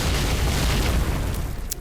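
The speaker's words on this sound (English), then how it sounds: "You hear those explosions? That's ammunition exploding." Ammunition cooks off in the game Cataclysm: Dark Days Ahead, a dense rumbling barrage of booms and pops blending into a continuous roar, followed by a sharper crack near the end.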